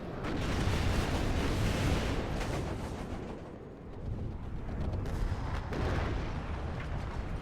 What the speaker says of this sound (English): we're going to show some of the response to Soul Crusher's artillery here